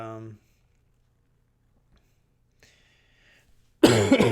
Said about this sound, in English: Maybe my next live stream I won't be coughing as much